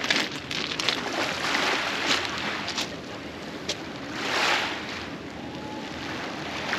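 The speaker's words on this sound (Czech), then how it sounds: "to zrovna přijíždí trajekt" A ferry approaching the harbour beside a beach at Supetar on Brač, Croatia, heard as a distant low rumble under wind buffeting the microphone and lapping waves.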